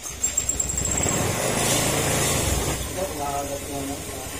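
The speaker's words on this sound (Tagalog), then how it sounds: "Ayan, mandar na yung makina." A Honda Beat FI motorcycle engine catches and keeps running after being started, a close, loud idle with a rattling drone and hiss that settles slightly toward the end.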